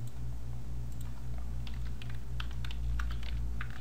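A computer keyboard clatters with a run of quick, irregular keystrokes at close range over a low steady hum, busiest toward the end, with no one speaking.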